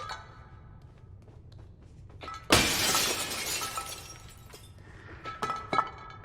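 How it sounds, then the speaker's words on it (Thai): Glass shatters loudly in a sudden burst in the horror video game Little Nightmares II, followed by a spray of tinkling shards and scattered clinks that fade over several seconds. "กระจกแตกไง"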